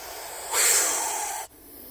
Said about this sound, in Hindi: और ये सांप का आप साउंड सुन सकते हैं